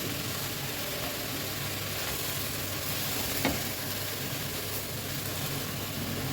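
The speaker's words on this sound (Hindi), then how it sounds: "तो हल्का हल्का ये सौते करूँगी मैं।" Cabbage, beans and carrots sauté in a pan for macaroni, giving a steady close hissing sizzle throughout, even and continuous, with one brief stir or scrape and no talking.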